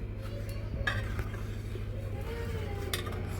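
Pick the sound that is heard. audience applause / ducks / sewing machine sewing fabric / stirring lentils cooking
stirring lentils cooking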